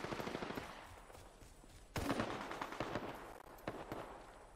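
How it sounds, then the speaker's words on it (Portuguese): Rapid automatic gunfire in the battle royale game Apex Legends, bursts of shots rattling continuously with a sharper, louder volley midway, no talking over it. "tá dando tiro, né?"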